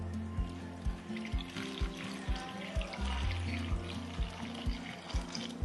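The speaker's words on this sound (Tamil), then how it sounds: "2 டம்ளர் அளவுக்கு தண்ணி ஊற்றிக்கோங்க." Water is poured into a pressure cooker pot holding cut raw plantain pieces, a soft continuous pouring and trickling sound with repeated dull thuds throughout, quiet and close.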